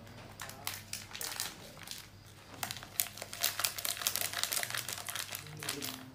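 Sachet of ABC instant coffee torn open by hand, a run of close, crisp crinkling and ripping of the foil packet with irregular bursts over several seconds.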